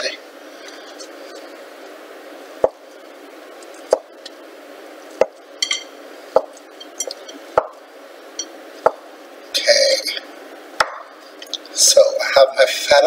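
A knife dicing feta cheese on a cutting board for a watermelon salad, giving a series of sharp, evenly spaced chopping taps. Softer crumbling and rustling follow toward the end, and a person talks over it.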